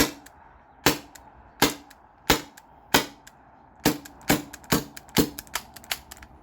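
A modified T4E TR68 marker with a 16-joule valve and a 1mm drilled restrictor fires about a dozen sharp, close pops at uneven intervals until it runs out of gas, with the later shots coming quicker and weaker.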